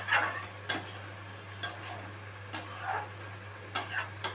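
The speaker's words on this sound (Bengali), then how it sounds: "এই মশলাটা দিয়েই কিন্তু ভালোভাবে আমি কষিয়ে নেব" Spice paste being stir-fried with a splash of water in a pan for a potato curry (aloo dum), giving intermittent scraping strokes over a low steady hum, close by and moderately loud.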